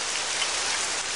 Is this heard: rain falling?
yes